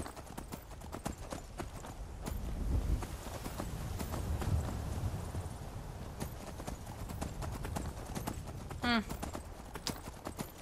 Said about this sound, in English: All right, Horsey, let's go